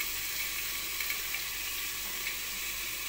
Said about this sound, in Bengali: আর এখানে ভাত ফুটে গেছে দেখো।